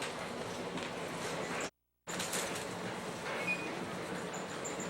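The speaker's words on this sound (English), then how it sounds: "We're on the train from Anchorage going down to Seward" A passenger train running from Anchorage to Seward, Alaska, with a steady rumbling wheel-and-carriage roar heard from inside, briefly cut out for a moment, then resuming at an even level.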